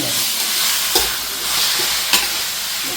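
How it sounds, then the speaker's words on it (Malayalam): Onions fry in hot oil for a chicken curry, giving a loud, steady sizzle with a couple of brief scraping stirs close by, and no talking. "ആ സവോള നല്ലോണം അതിനകത്ത് വെന്ത് കിടക്കുക"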